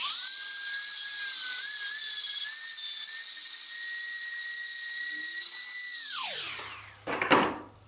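A high-pitched Dremel rotary tool grinding a miniature whines steadily for several seconds, then spins down, followed by a brief clatter.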